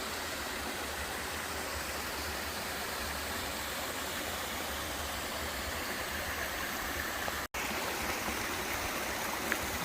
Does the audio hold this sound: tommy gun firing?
no